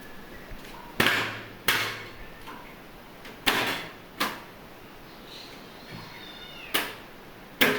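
A crying house cat in a home being packed up, with a series of sharp meows and thumps at irregular intervals, some loud and close, others softer, over a quiet background.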